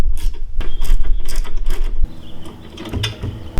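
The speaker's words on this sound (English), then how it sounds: "tighten the nuts to secure it" Nuts and bolts being tightened on the axle of a Riptide SL cart during assembly: loud, close metallic ratcheting and clicking in a steady rhythm, easing off partway through, then a few sharper clicks.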